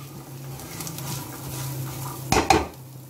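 Spiced sweet corn stirred in a pan, a soft scraping swirl with a low background hum, ending in two sharp clinks of a spoon against the metal pan; no one speaks.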